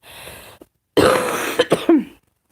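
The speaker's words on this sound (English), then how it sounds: "I'm starting to cough a little more because I'm talking more" A short throat-clearing rasp, a pause, then a harsh burst of several close coughs in quick succession from a person with flu and pneumonia.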